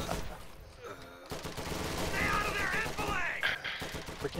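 Gunfire in the World War II strategy game Company of Heroes 2: rapid rattling bursts of rifle and machine-gun fire crackle through a busy battle mix, with some sharp whistling tones and a voice talking over it.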